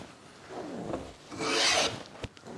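A Korean hand plane blade is sharpened with a few short, close gritty rasping strokes, rising to one longer scrape before a brief knock.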